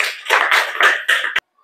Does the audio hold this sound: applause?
yes